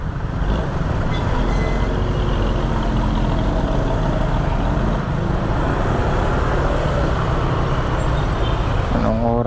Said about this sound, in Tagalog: Grabing traffic dito mga kapwa sa Bikutan. Talagang bumper to bumper.